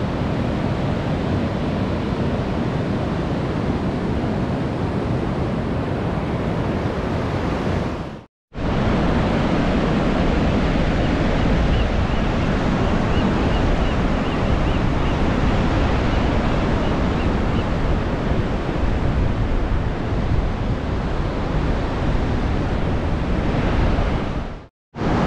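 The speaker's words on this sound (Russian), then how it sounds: "Вот он, громаден океан." Steady roar of Pacific Ocean surf washing onto a beach near Tillamook, Oregon, continuous and loud, with a brief dropout partway through and another near the end.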